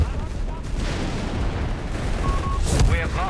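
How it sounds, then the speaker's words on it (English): Artillery barrage in the strategy video game Company of Heroes 3, a steady rumble of distant booms and explosions filling the mix throughout, with a brief sharper burst near the end. "Rangers artillery being called in."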